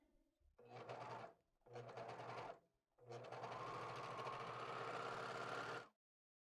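A serger machine stitches around the armhole of a T-shirt in three bursts, two short runs followed by a longer continuous run, a close, steady mechanical whir that stops abruptly.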